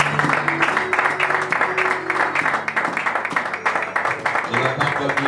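A church congregation applauds and acclaims in worship, rapid rhythmic clapping with voices raised over it, loud and dense throughout, with someone speaking and singing through it.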